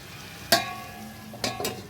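Chicken curry stirred in a pan produces a few sharp metallic scrapes and clinks, one early and a cluster near the end, over a faint background sizzle, with no voices.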